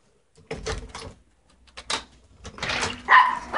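A dog outdoors in the cold, giving a few short, sharp barks close by in separate bursts amid quiet gaps.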